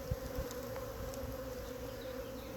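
A honeybee swarm clustered on a tree outdoors makes a dense, continuous buzzing hum, steady and fairly close, with no speech.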